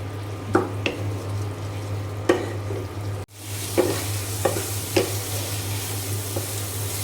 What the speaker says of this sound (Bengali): এখানে যে বাঁধাকপি ভাজিটা হচ্ছে, ছোট চিংড়ি মাছ দিয়ে বাঁধাকপি ভাজি।